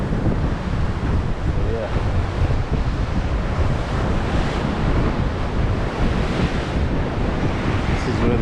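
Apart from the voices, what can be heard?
wind and waves at Atlantic Ocean beach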